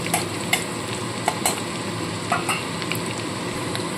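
Steady sizzle of garlic frying in a pan with a few sharp scrapes of a utensil stirring, close up, no voices.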